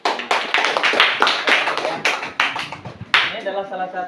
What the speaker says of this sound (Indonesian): bagus, tepuk tangan dulu